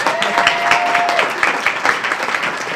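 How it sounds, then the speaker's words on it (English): Lively audience applause for Lauren at a civic tech meetup welcome session, close dense clapping with a brief voice or whistle early on, continuing steadily. "Let's give a round of applause here to Lauren."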